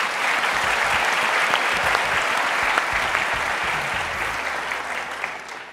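A studio audience on a televised Turkish singing competition applauds a bandleader and his orchestra, sustained loud clapping that gradually thins and softens toward the end, with low music rumbling underneath.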